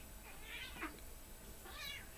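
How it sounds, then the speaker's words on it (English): Indoor cat meowing twice, faint drawn-out cries with a gap between them over a quiet room hiss. "Oh my god, cat."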